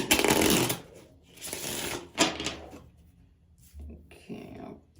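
Bursts of tarot card shuffling, a rapid riffling flutter repeated several times with short pauses between, close and fairly soft.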